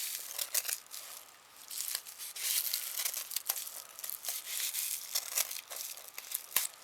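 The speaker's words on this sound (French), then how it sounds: "on passe le ciseau, vous voyez, entre les deux bouts de carton et on coupe" Scissors slicing through layers of tulle wound between two pieces of cardboard for a pompom, repeated crisp crunching snips close up, no voices.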